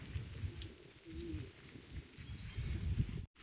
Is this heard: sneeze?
no